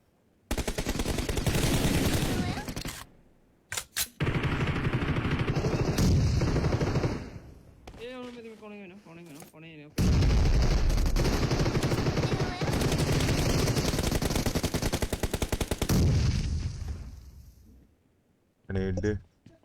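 Rapid automatic gunfire in a shooter video game, loud dense bursts with brief pauses between them, mixed with game sound effects while players talk over it.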